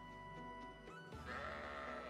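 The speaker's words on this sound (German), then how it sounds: "Das Schaf ist aufgenommen." A sheep bleats in the video game Fire Emblem Engage, one drawn-out bleat over a steady game music background.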